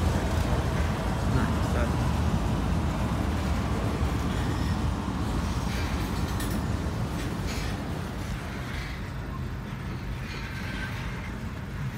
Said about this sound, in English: It's freight train. Still going.